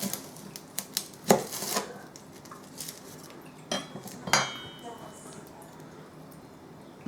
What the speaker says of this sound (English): Big knife for the veggies. Okay. So cut that in half.